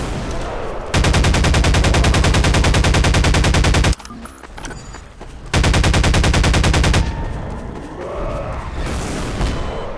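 Rapid automatic gunfire in Garry's Mod fires in two long sustained loud bursts with a quieter gap between, and game ambience follows the bursts.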